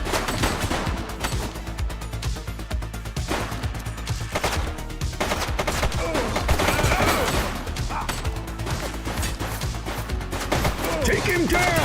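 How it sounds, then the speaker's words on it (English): Rapid gunfire from The Precinct, a police game set on city streets, crackles in dense continuous bursts under intermittent voices and music, staying loud and busy from start to finish. "She's shooting!"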